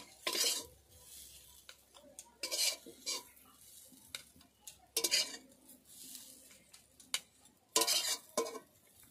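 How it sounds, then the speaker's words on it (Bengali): A utensil scrapes and scoops cooked filling out of a wok, giving repeated short metallic scrapes and clinks in irregular bursts, close and moderately loud, with no talking. "এবার আমি পুরটা তুলে নিচ্ছি।"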